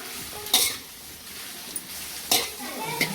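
A utensil scrapes through patrode mixture in a pan in a few short, separate strokes, with quiet sizzling in between.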